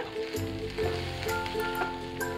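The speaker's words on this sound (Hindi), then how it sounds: "मसाले अच्छे से मिक्स हो गए हैं बस इन्हें दो मिनट के लिए और भून लेंगे" Spice mix of chili powder, garam masala, amchur and turmeric roasting in a pan for a semolina kachori stuffing gives a steady, close sizzle with a faint tonal hum underneath and no talking.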